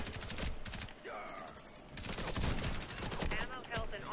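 Rapid bursts of automatic gunfire from the first-person shooter game Warface on Xbox, loud clustered volleys with brief pauses between them, mixed with game effects and a voice speaking intermittently.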